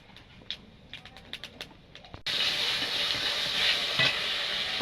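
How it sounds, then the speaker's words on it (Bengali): Cumin seeds hit hot oil in a kadai, setting off a sudden loud, steady sizzle and crackle that runs to the end, preceded by a few faint clicks and taps. "আমি কটা জিরে নিয়েছি, জিরে ফোড়ন দিয়ে দেব"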